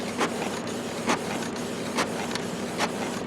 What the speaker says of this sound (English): Here's a nozzle check.